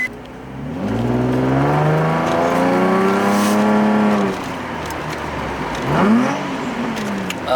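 A Nissan 350Z fitted with a Borla Extreme exhaust revs hard and loud up close, the pitch climbing and holding, then dropping before a second short blip of throttle.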